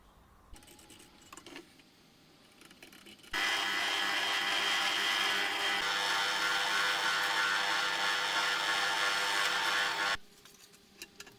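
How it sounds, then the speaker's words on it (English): A loud, steady power-drill whir runs for about seven seconds without a break, drilling holes in a water rocket part, with quieter handling clicks and knocks before and after it. "so we can drill the matching holes"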